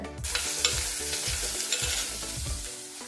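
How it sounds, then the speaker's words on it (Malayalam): Onion, garlic, ginger and green chili crackle and sizzle in hot coconut oil while being stirred, a steady frying hiss broken by several low scraping strokes of a spoon against the pan, close and continuous with no talk. "ഈ ചൂടായ എണ്ണയിലോട്ടൊന്ന് ഇട്ട് കൊടുക്കാം ഉള്ളി വെളുത്തുള്ളി ഇഞ്ചി പച്ചമുളക്"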